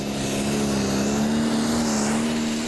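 A Valtra pulling tractor strains under full load at a Danish championship pull in Herning, its loud, steady high-pitched engine roar holding one sustained tone with a slight pitch rise throughout.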